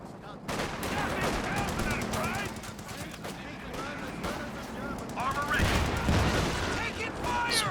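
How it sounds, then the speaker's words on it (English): Bursts of .50 cal machine gun fire in the Company of Heroes 2 strategy game, rapid rattling volleys over a dense battle din with other shots, under a voice talking throughout. "50 cal popping on the other Sherman"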